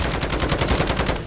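A deployed sentry gun in Call of Duty Modern Warfare Zombies fires a steady, rapid stream of automatic shots, loud and close, for the whole moment with no pauses.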